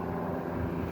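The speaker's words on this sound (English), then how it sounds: "Look, there's an airplane." Steady low droning engine noise, like an aircraft passing overhead, continuous and fairly loud throughout.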